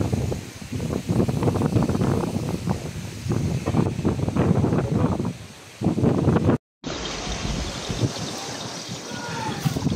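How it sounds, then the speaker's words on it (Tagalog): Strong wind roars and buffets the microphone in loud gusts at a pigeon loft, with a brief dropout near the end before the blustery rush resumes. "napakalakas ng hangin ngayon"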